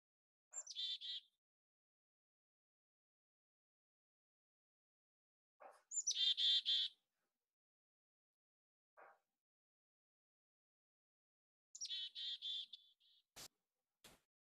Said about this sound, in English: we have just heard the familiar chickadee